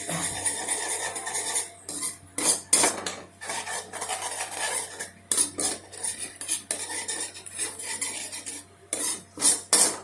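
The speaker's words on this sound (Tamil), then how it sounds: "இப்போ வந்து முட்டையை வச்சு ஊற்றிட்டு நல்லா ஒரு மிக்ஸ்" A utensil scrapes and clatters against a pan while egg is stirred into fried rice with chicken, the metallic scraping coming in irregular bursts with short pauses, close and loud, with no talk.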